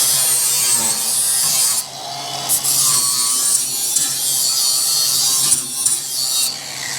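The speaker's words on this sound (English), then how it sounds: "And I forgot to grind the painting crap off of there." A grinder takes paint off the steel body of a 1941 Chevy during a chop and B-pillar rebuild. It makes a loud, continuous, harsh abrasive rasp that dips and surges briefly as the tool shifts, with no speech.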